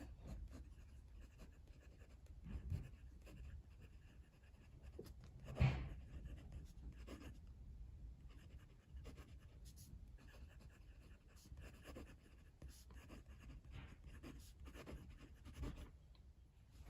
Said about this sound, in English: Number 6 steel nib, Asvine nib, and this is a fine, but that is not a super fine. Let's do writing.